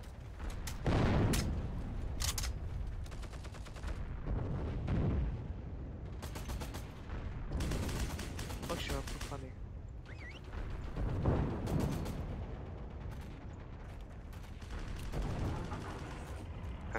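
Dense gunfire and heavy booms from the World War II shooter Hell Let Loose rattle on through the whole stretch, bursts of automatic fire and blasts layered loud and continuous with no clear talk.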